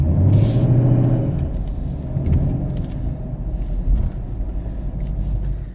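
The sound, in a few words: 2017 Camaro driving over speed bumps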